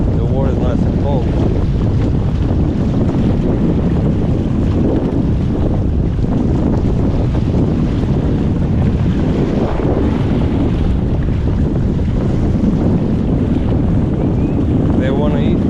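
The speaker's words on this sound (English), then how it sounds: "It's a lot of wind today" Strong wind blasts across a jetty during sheepshead fishing, a loud, continuous rumbling roar of gusts hitting the microphone mixed with wave wash, unbroken for the whole stretch.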